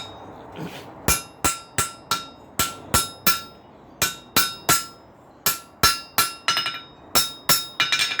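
Steel spike-head tongs, left uncooled by quenching, are hammered over an anvil in a forge, with about eighteen sharp ringing blows in a steady rhythm that begins after a short pause, loud and close with a metallic ring on each strike.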